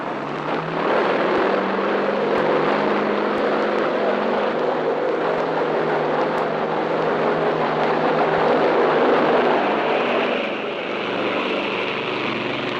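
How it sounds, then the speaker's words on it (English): A loud, steady aircraft engine roar builds and holds for several seconds, then eases slightly, as an S-2F Tracker propeller plane launches from a carrier deck in 1962. "An S-2F tracker is launched."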